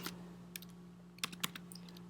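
A computer keyboard is tapped in short irregular bursts while a message is typed, close and fairly quiet, with a steady low electrical hum beneath and no talking.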